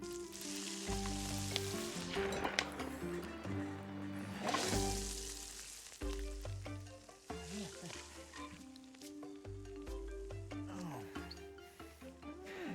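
Food sizzling in a cooking pan in the video game Monster Hunter Wilds, a steady bright fry with bubbling and game music tones running underneath throughout.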